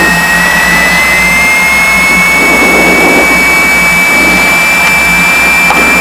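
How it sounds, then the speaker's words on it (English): Twin piston engines of a Piper Seneca run steadily while the plane taxis, a loud continuous droning hum with constant tonal whine and no voices. "A little bit more throttle on the left engine, just tiny bit."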